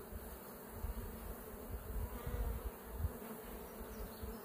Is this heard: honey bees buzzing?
yes